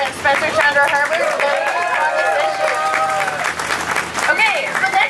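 Crowd applause for Green Party and political leaders at an outdoor coastal-defence rally in Vancouver, sustained clapping mixed with cheers and chatter, voices talking and calling over it throughout.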